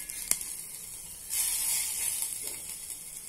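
Sweet Navaratri thali dish roasting in a pan, a soft steady sizzle and frying hiss that swells after a brief sharp clink, continuing close and moderately loud with no talk.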